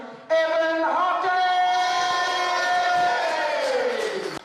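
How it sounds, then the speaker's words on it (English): A studio audience at a local Australian football comedy TV show greets a comedian with a loud, sustained crowd cheer and whooping that starts abruptly and fades slightly toward the end. "A big round of applause for Federal's very own Evan Hockey!"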